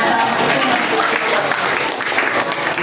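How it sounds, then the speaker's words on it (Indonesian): A room full of people claps for a singer at an Indonesian university event, with dense, sustained applause filling the space while a voice speaks over it. "kita beri tepuk tangan untuk penyanyi"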